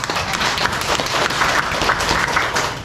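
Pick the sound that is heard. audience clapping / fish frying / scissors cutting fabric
audience clapping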